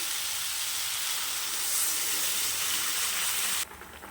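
Water poured into frying egg curry masala gives a loud, steady, close hiss and sizzle that cuts off abruptly near the end, with no talking.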